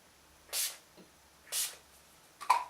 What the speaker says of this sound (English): This is the all-nighter setting spray from Urban Decay.